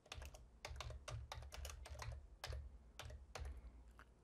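A computer keyboard is typed on in quick bursts of crisp clicks with short pauses between them, close and fairly quiet.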